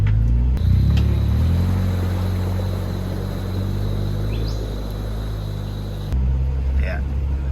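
A vehicle eases slowly into flood water with a steady, close engine rumble and low drone, while faint splashing and chirping sound in the background.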